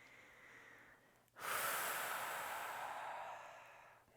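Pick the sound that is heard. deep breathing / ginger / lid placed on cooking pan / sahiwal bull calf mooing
deep breathing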